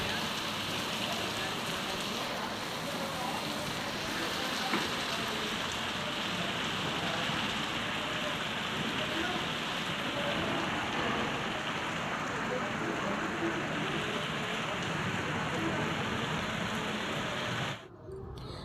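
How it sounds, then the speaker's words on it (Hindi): Heavy rain pours steadily, a dense continuous hiss of drops on surfaces, with a brief dip near the end. "देखिए कितनी तेज़ बारिश होने लगी है, बहुत तेज़ बारिश हो रही थी"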